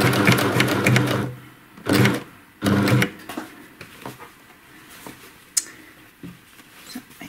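A cover stitch sewing machine top-stitches a pair of shorts in a few close, loud bursts of rapid stitching, separated by quieter pauses with light handling clicks.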